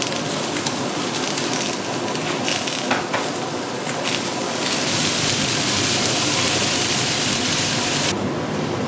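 Courgettes and peppers sizzle in a hot pan with herbs, giving a loud, continuous hiss and crackle that swells and steadies throughout.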